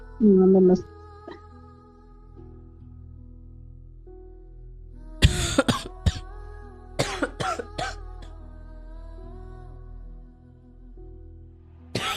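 A few sharp coughs in quick bursts stand out against a quiet, humming background, with a short vocal sound near the start.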